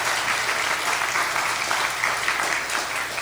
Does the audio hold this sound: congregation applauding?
yes